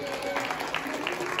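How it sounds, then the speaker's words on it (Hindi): Clapping during a Tulsi vivah ceremony, brief scattered hand claps from a small group mixed with voices and singing. "ताली बजा दीजिए"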